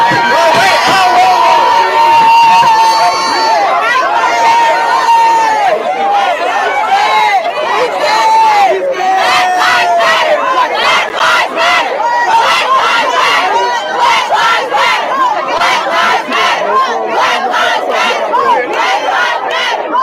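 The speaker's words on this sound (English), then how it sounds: "we see the crowd is getting bigger and bigger and bigger" A large, dense crowd gathers and shouts, with many overlapping raised voices, yells and chanting-like bursts forming a loud, continuous roar that stays close and unbroken throughout.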